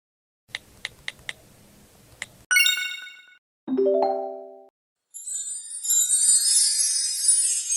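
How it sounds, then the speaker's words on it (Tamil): A phone plays a string of notification tones: several quick high pings, then a brighter ascending chime, a lower tone and a final shimmering jingle, clear and close with no talk. "ஏதோ மெசேஜ் வந்துட்ட சவுண்ட் வருது."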